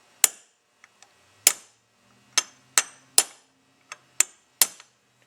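Metal dimpled around the outside with a punch and hammer while rebuilding a part on a Buick, giving sharp ringing strikes in a slow irregular series with a few lighter taps between them, close and without talk.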